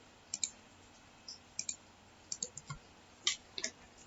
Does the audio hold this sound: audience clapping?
no